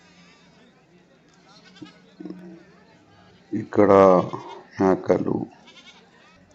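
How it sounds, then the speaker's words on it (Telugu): Goats and young kids at a village livestock market let out two loud, close bleats in quick succession. Quieter animal calls and a brief spoken word come before them. "మేక పిల్లలు"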